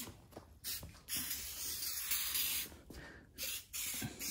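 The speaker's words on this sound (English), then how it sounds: "just spray it." Short hissing bursts of aerosol vinyl prep sprayed onto a vinyl middle seat for a 1966 VW Split Bus, several quick puffs in a row, close and fairly soft.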